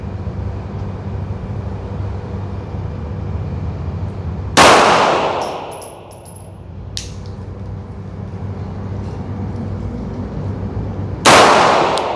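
A Glock 19 Gen 5 pistol with a red dot sight is fired twice at a target, two loud sharp reports several seconds apart, each followed by a ringing decay.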